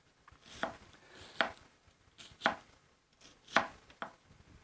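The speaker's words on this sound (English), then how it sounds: "we're going to cut up an onion" A chef knife chops through an onion on a cutting board, five crisp, separate thunks at an uneven, unhurried pace, close and clear in a quiet kitchen.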